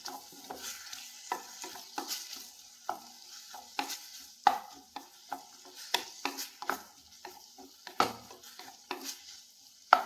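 Pineapple thoran being stirred in a pan: quick, irregular spatula scrapes and clinks repeat over a soft sizzle, close and fairly steady, with no talking.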